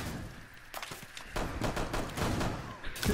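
Rapid gunfire crackles in a Siege tactical shooter match, a burst of sharp shots in quick succession over background game noise.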